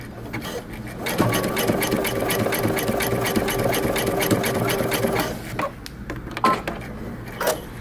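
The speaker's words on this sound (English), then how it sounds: "So I'm going to make a couple of bar tacks just for aesthetic purposes only." A sewing machine runs in a fast, steady burst for several seconds, stitching narrow zigzag bar tacks on jeans, then stops, leaving a few small clicks and handling noises close by.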